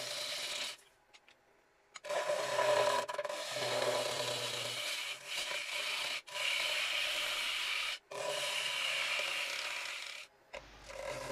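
Lathe tool scraping and rubbing inside a partly hollowed cherry wood bowl to remove tool marks, a steady loud rasping broken by short pauses as the cut is lifted and reapplied.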